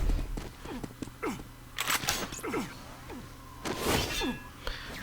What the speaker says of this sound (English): Just spamming a couple rockets up there.